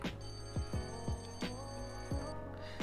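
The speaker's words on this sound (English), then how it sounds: "the Carpathia's siren is pretty much just a basic bell ringing siren" A continuous electric bell-ringing ship siren in a video game, ringing rapidly, with low engine hum and periodic thumps underneath, steady and moderately loud.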